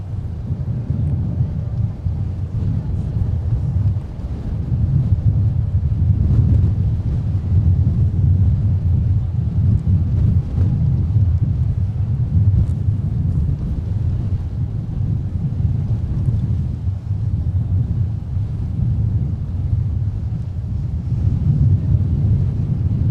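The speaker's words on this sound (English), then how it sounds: "Jinx the wind, Alex. It's picking up again." Gusty wind buffets an outdoor microphone at MSP airport, a steady low roar with surging swells that rises after the first few seconds and holds strong throughout.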